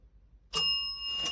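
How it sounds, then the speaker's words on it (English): A hand bell rings once, clear and close, its bright tone sustaining and fading with a slight second shimmer, in a quiet room. "can you ring the bell for me?"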